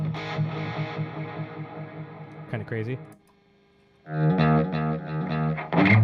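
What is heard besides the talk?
distorted electric guitar through the dirty channel of a 5150 amp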